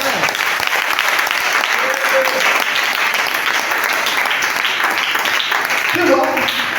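A church congregation claps steadily and densely, a loud, sustained wall of applause from many hands that continues without a break and swells slightly near the end.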